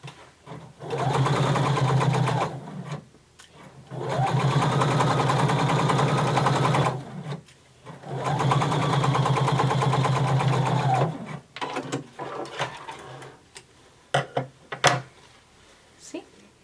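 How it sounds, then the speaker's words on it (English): A sewing machine stitches down the center of a denim skirt flap in three long, steady runs with short pauses between them, followed by sharper clicks and handling noises as the fabric is moved. "just sew down the center of this"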